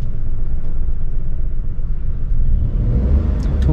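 A car engine idles and lurches at low throttle, a steady low rumble with slight surges throughout, close and fairly loud, with no talk over it.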